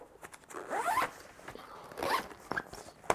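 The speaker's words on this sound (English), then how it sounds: "And then when you zip this up," A OnePlus Explorer backpack zipper is pulled closed in two quick rasping strokes, close and fairly quiet, with a few soft handling clicks around them.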